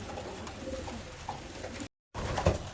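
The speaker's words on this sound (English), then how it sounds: "Here's a really nice pigeon, that one." A pigeon coos in soft, low throaty murmurs, close by, with a short break in the sound before the cooing resumes more strongly.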